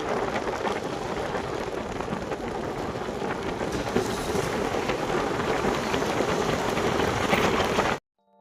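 Heavy rain on a trip in Cebu: a dense, steady roar of downpour with continuous splashing and low rumble, loud and unbroken for about eight seconds before cutting off abruptly.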